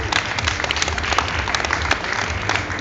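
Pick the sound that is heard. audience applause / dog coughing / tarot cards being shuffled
audience applause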